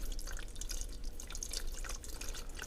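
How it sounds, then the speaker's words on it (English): Water poured into a cold pot in a cloud-formation demonstration, heard as steady splashing, dripping liquid with continuous bright trickling at moderate level and no voices. "I'm going to pour in some water"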